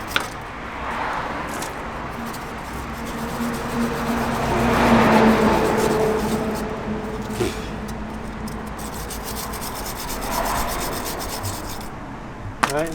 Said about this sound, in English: run a wire brush over it because they're going to just be full of crust and rust